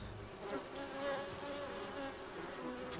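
Hornets attacking a honeybee colony, a dense continuous buzzing of many wings that swells and fades, close and steady throughout with no voices.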